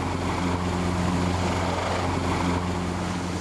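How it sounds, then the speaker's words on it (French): French Tiger military helicopters circling overhead, giving a loud, continuous rotor and engine drone with a steady low hum throughout and no voices. "Le tigre français qui tourne au-dessus de nous"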